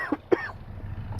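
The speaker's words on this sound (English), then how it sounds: "Excuse me, I need to cough." Two short, close coughs follow each other in quick succession, then a brief quiet.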